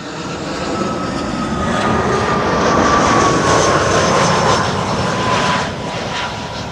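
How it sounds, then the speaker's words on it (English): An Airbus A320 jet arriving on Schiphol's Kaagbaan runway 06, its engine roar swelling loud and close with a whining tone, peaking midway and then easing off, with no talk. "It's an A320 of sorts."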